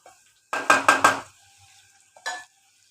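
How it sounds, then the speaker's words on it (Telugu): Tomatoes frying in a pan, stirred with a utensil in three quick close scraping strokes, then a pause and one more stir, with faint sizzling between and no talk. "టమాటాలు ఇలా ఫ్రై అవ్వాలండి"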